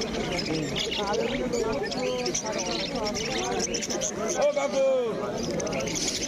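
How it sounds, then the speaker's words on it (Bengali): Many caged birds chirp and tweet at the Uluberia pet bird market, a busy overlapping chatter of calls with someone talking over it. "দেখতে পাচ্ছেন পুরো ফ্রেশ পাখি রয়েছে"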